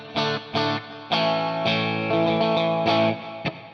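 Clean electric guitar chords through an amp modeler's clean channel ring out in a steady strummed rhythm, bright and close, with a touch of delay and reverb shimmer and sustain between strokes.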